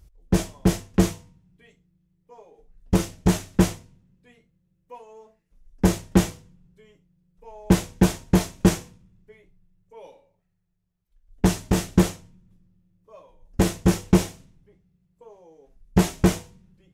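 Drum stabs from the bridge of a song: sharp clusters of two to four punchy hits repeat every couple of seconds, with quieter pitched sounds in the gaps between them.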